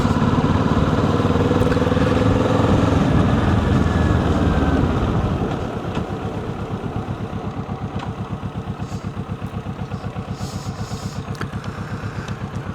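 A Kawasaki Vulcan S motorcycle rides along a countryside road. Loud wind roar and engine drone give way to a steady, pulsing exhaust thrum as the bike slows, heard close with no talking.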